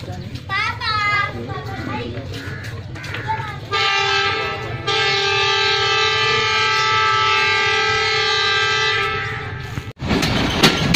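Narowal 211up passenger train pulling out of the small Raiya Khas station, with a loud, steady rumble and drawn-out tonal squeal building after a short burst of voices, then cutting off into clatter.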